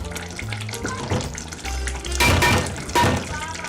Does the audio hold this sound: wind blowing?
no